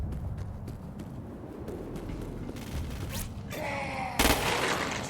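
Gunshots fired at freaks in a video game: a few sharp shots scattered through a busy stretch of game noise, with a loud, bright burst near the end.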